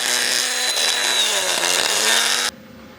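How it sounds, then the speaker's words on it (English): A grinder bites into a rusty, broken exhaust manifold bolt on an LS engine, giving a loud, steady, harsh whine that cuts off abruptly near the end. "we got to grind that off"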